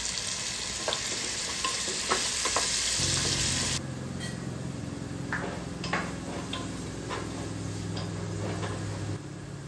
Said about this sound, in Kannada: ಇವಾಗ ಸ್ವಲ್ಪ ಎಣ್ಣೆ ಹಾಕಿ ಒಂದು ಪ್ಯಾನಿಗೆ ಇಲ್ಲಿ ನಾವು ಉಪ್ಪು ಖಾರ ಹಾಕಿಟ್ಟಿರುವಂತಹ ಆಲೂಗಡ್ಡೆ ಇದೆಯಲ್ಲ ಅದನ್ನು ಹಾಕಿ ಚೆನ್ನಾಗಿ ಫ್ರೈ ಮಾಡ್ಕೋಬೇಕು.